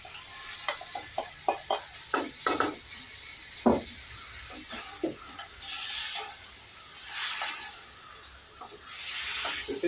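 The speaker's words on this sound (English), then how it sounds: "Here goes the onions and the garlic." Onions and garlic frying in a pan over an open fire: a series of close, irregular scraping and stirring knocks, then a steady hiss and sizzle swelling in waves, no speech.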